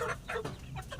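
A hen clucks several times in quick, uneven bursts, close by and moderately quiet.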